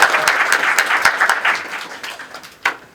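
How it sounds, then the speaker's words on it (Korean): A seminar audience gives a round of applause at a product launch event, a dense burst of clapping that is strong at first and gradually thins and fades, with a few scattered claps near the end. "큰 박수 부탁드릴게요."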